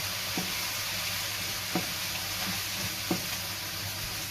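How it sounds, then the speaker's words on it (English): Frozen stir-fry vegetables sizzle steadily in a hot pan, with a few soft scrapes and knocks as they are stirred around, a continuous close frying hiss throughout with no talking. "what you want to do is stir these around until they've cooked nicely"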